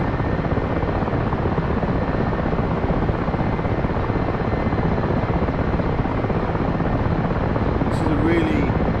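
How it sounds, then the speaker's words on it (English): A helicopter in the DCS flight simulator game, its rotor and engine making a loud, constant broadband roar that holds steady throughout, with a brief faint tonal blip near the end. "This is a really fun helicopter to fly."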